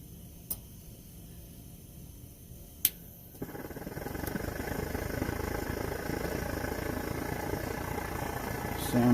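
A Svea 123 brass camping stove fires up after priming, shifting from a few soft clicks into a steady, low roaring hiss of the burner that holds evenly and grows slightly louder near the end.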